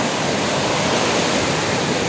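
Surf washes up on a beach, a loud continuous broadband roar of breaking waves that stays steady throughout with no voices over it.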